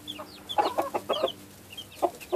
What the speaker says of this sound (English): And there's the daddy rooster